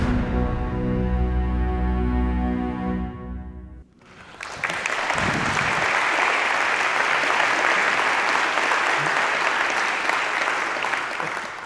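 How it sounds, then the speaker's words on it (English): A big audience at a distinguished speaker talk breaks into sustained applause, loud and dense, after a few seconds of tonal sound fade out. "I know you guys are clapping for my dad's cameo appearance there"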